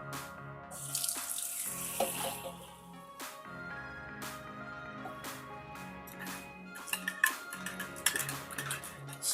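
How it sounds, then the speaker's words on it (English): Water from a can splashes and trickles onto chicken in a pan for braising, a quiet wet pour with light metallic ticks and clinks of the can against the cookware. "And I'm gonna put a can of water in here."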